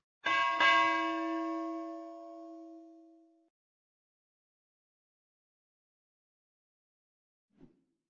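A notification bell sound effect strikes once as a single clear bell tone and rings out, fading over about three seconds. Silence follows, broken only by a faint soft thump at the end.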